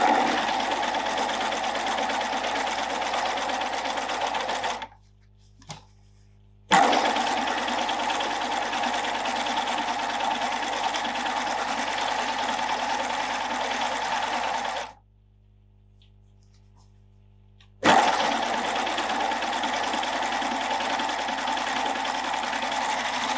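Baby Lock Euphoria coverstitch machine stitching through thick fleece, a steady fast mechanical whir with two short pauses where the motor stops, close and loud, no talking.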